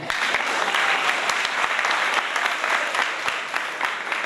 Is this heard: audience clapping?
yes